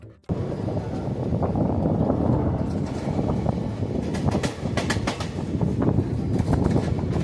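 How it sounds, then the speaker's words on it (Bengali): The Teesta Torsha Express pulling out of Kishanganj station, heard from inside the train as a steady low rumble with rattling and intermittent clanks of the wheels on the track. "আমাদের ট্রেন কিষানগঞ্জ রেলওয়ে স্টেশন থেকে ছাড়লো"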